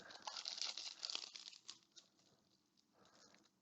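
A Magic JumpStart booster pack wrapper is cut open across the top, giving a quiet crinkling, crackling rustle of foil-like plastic for about a second and a half, then softer fiddling sounds.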